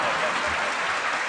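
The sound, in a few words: audience applause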